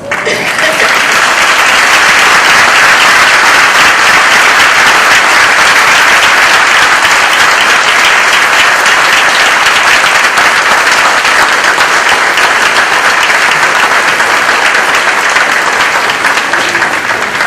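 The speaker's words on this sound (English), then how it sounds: "I'd like to not only give you another special round of applause" Sustained, dense applause from a large audience at a military change of command ceremony, loud and steady throughout with no break.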